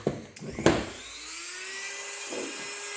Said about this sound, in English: And then we're just going to Dremel this open